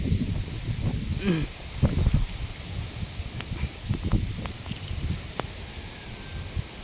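Gusty typhoon wind roars and rustles through banana plants and foliage, with scattered crackles and thumps, loud and close to the microphone, continuing throughout.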